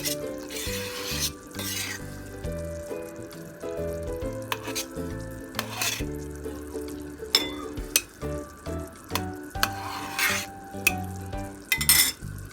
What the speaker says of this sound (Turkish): Güzelce tekrar koyulaşana kadar kaynatıyorum.